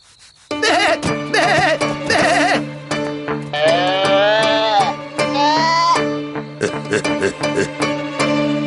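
Sheep bleat loudly and repeatedly in wavering, drawn-out calls, close and overlapping, over a sustained musical drone.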